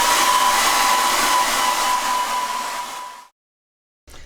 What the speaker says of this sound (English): going to dry that sky off first with a hairdryer